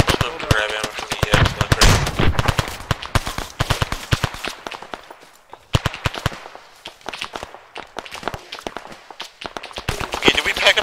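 Dense gunfire from an ARMA 3 combat operation, rapid sharp shots in bursts and volleys almost throughout, loud and close with some quieter distant cracks, while voices talk over the shooting.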